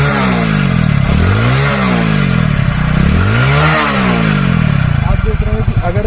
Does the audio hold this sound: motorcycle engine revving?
yes